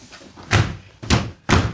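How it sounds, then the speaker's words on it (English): A Black & Decker plastic cart door shuts with three sharp, hollow thuds spaced about half a second apart, close and fairly loud with nothing else heard. "I can close the door."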